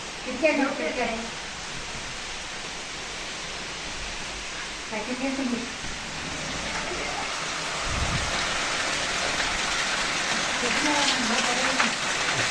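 Rain falls steadily in a broad hiss, growing a little denser later on, with occasional quiet speech over it.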